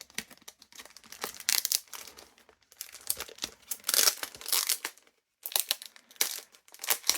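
A plastic card game double pack wrapper crinkles and tears in repeated close bursts with brief pauses between, crisp and bright, with no voices.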